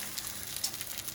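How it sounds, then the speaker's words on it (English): Food sizzles in a hot pan at a home cooking setup for a plant-based festive show, a steady faint hiss of frying with small crackles running throughout. "a little bit of sizzle"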